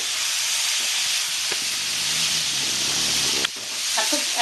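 Taro stolons fry in a pan with a steady, loud sizzle and hiss that carries throughout, broken by a couple of brief stirring clatters.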